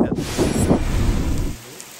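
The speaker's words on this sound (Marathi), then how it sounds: "खेड तालुक्याच्या काही भागात रविवारी 22 सप्टेंबर रोजी सायंकाळी दमदार पावसाने हजेरी लावली" Heavy evening rain in the Khed taluka area, a dense broadband downpour with a low rumbling undertone like distant thunder, loud and steady for about a second and a half before dropping away.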